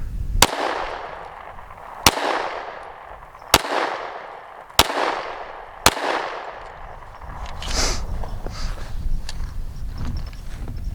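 Five sharp, loud pistol shots from a PSA Dagger fired at 5 yards, spaced roughly evenly about a second and a half apart, each with a short ringing decay, followed by faint rustling and background noise.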